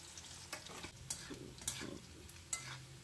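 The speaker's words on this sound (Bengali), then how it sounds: "প্রথমেই আলুগুলো হালকা করে একটু ভেজে নেব," Diced, salted potatoes frying in oil with cumin: a soft, steady sizzle with occasional stirring scrapes, fairly quiet and close, without talk.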